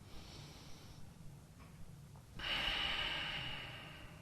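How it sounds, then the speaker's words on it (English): One slow, deep breath during a yoga stretch: a soft inhale, then a louder, airy exhale through the nose or mouth close to the mic in a quiet room. "Last breath."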